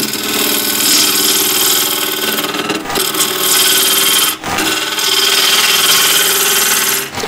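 A bowl gouge cuts into a spinning wooden bowl blank on a lathe running around 1250 rpm, a loud continuous rasping tear over the machine's hum, with a couple of momentary breaks in the cut.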